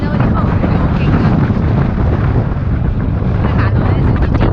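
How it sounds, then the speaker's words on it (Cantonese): Strong gusty wind on a hill near Glastonbury, England, buffeting the microphone with a loud, continuous roaring rumble that surges and eases, with a voice partly heard beneath it. "你見到嗰啲風係好勁㗎"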